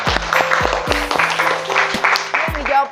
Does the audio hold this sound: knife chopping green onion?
no